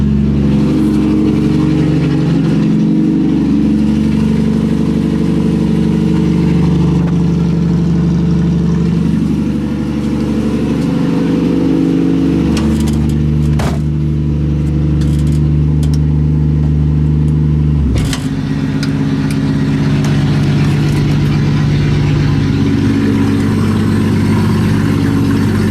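A 1965 Ford Mustang engine turns over and settles into a loud, rumbling idle close by, with a couple of sharp blips and revs partway through before returning to a steady low-pitched idle.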